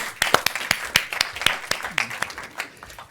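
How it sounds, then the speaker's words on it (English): Scattered audience clapping at a prostate cancer consumer session, individual claps distinctly separated in an uneven rhythm, fairly close, with a bit of voice underneath. "another round of applause"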